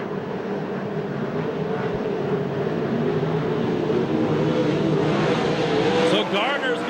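USAC/CRA sprint cars racing at Hanford, California, a loud sustained engine roar sweeping past with rising and falling pitch near the end, under continuous race commentary.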